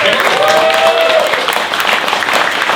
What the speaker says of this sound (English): Round of applause, everybody, for Paula.